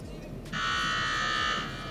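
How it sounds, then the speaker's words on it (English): A loud electronic buzzer blares for about a second to start a CrossFit competition interval, a steady harsh tone over a booming arena with crowd noise and an announcer's voice. "That buzzer extremely loud today, different from the one we used yesterday."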